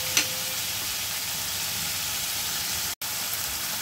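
Spice paste for a chicken kosha curry sautéed in hot oil, a steady close hiss of frying with light stirring, broken by one brief silent gap, no voices.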